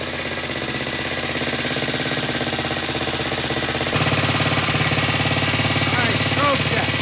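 A vintage British motorcycle engine idles steadily on a workbench during repair, with a continuous close mechanical chatter and a slight rise in pitch partway through.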